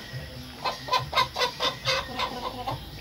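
A chicken clucks close by in a rural village yard, giving a steady run of about eight rhythmic clucks over roughly three seconds, with no talking.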